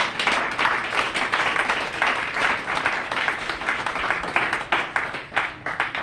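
A church congregation applauds the Lord with sustained, dense clapping from many hands, loud and continuous for several seconds with slight swells in intensity.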